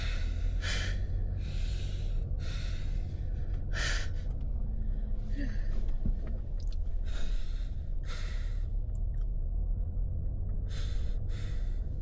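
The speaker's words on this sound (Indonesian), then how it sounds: "Aku ngatur napas perut aku" Heavy, deliberate belly breaths from a person, repeated bursts of loud, close inhales and exhales spaced a second or two apart over a low engine-like background.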